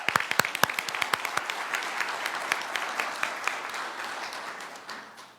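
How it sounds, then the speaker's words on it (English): A crowd at a school board meeting claps for a group. The applause is dense and sustained at moderate distance and tapers off toward the end. "Let's give them another round of applause now that we have such a great group."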